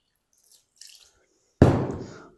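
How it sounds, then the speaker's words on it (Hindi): Warm water poured into a potato and semolina dough gives a sudden close splashing pour that fades quickly, after a few faint clicks and taps. "गर्म पानी डालेंगे"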